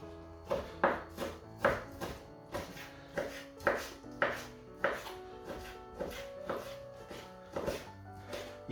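A knife chops raw meat into strips on a board for traditional white sausage, giving a steady run of about fifteen crisp, close thuds at a brisk, slightly uneven pace with no talk.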